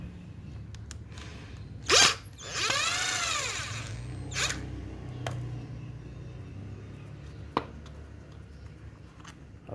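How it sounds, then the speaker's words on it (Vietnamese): Screws come out of the base of an old Makita angle grinder being restored. A sharp scratch is followed by a few seconds of buzzing, ratcheting whir up close, then quieter isolated clicks. "mình sẽ mở hai con ốc đít"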